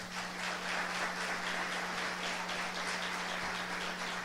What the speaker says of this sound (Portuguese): Você pode aplaudir o Senhor, irmão?